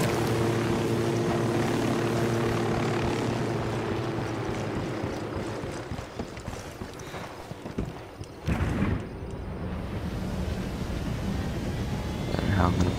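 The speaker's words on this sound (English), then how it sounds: "Chopper in the hangar, let's go." Helicopter in the video game Ghost Recon Wildlands, a steady loud rotor and engine drone that runs throughout, briefly dipping in the middle before surging again, with game voices and other sounds layered over it.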